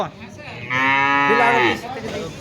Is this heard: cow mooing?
yes